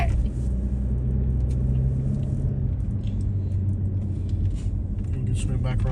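A car rolls along a road through the small country town of Mulberry in Polk County, Florida, giving a steady low engine and road rumble throughout while people talk inside the vehicle.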